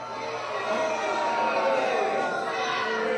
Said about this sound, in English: crowd gets louder now.